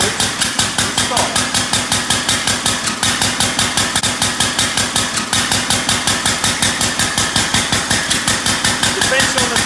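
An 1886 Benz Patent Motor Wagen replica engine runs with a fast, steady, loud mechanical chugging, each firing pulse evenly spaced, close by.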